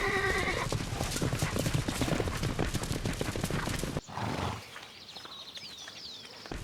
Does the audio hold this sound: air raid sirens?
no